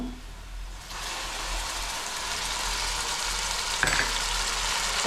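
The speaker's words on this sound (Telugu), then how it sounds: "అల్లం వెల్లిపాయ పేస్ట్ వేస్తున్నానమ్మా" Ginger garlic paste frying in a pan in a village-style Indian kitchen, giving a steady broadband sizzle that jumps up after the first second and holds loud and even, with a brief clatter near the end.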